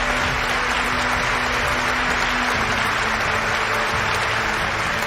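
Applause for graduates at a university commencement ceremony: a dense, sustained roar of clapping from a large crowd, loud and steady throughout.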